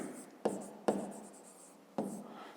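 A pen or chalk writes out a math solution in a few quick scratching strokes, with three sharp taps as it meets the surface, close and quiet with no one talking.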